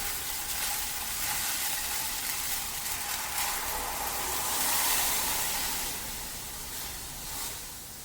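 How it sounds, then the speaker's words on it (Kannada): Milk poured into a hot pan of cooking sabudana kheer, a steady loud sizzling hiss that swells and then eases, with stirring and no talking. "ಈಗ ನಾವು ಇದಕ್ಕೆ ಏನು ಹಾಲು ತೆಗೆದಿಟ್ಕೊಂಡಿದ್ದೀವಲ್ಲ, ಈ ಹಾಲನ್ನು ಹಾಕೋಣ"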